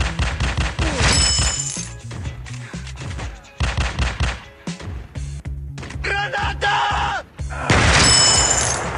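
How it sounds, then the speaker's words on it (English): Grenade blasts amid gunfire in a teddy bear shooting game, several sharp explosions and bursts of shots with shattering debris, loud and close, ending in a heavy blast. "Grenade!"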